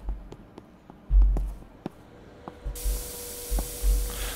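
Spray can hissing in the video game Internet Cafe Simulator 2, with several short bursts and then one longer continuous spray near the end, mixed with soft clicks and low thumps.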